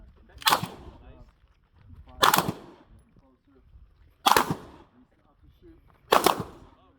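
Handgun shots fired during a move-and-shoot drill in an intermediate handgun class at an outdoor range in Sylmar, four sharp loud reports spaced about two seconds apart, with brief voices in between.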